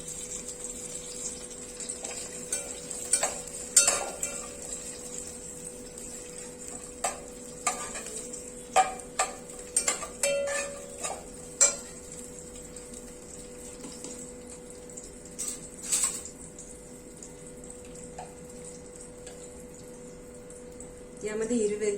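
Cashew and almond slivers sautéing in hot ghee in a pan for rice kheer, with soft intermittent sizzling and stirring scrapes, some small clinks, and a voice speaking over it.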